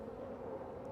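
A steady, close drone of honeybees buzzing inside an opened beehive during a late-winter check of a disorganized colony with no capped brood, faint and continuous throughout the brief moment.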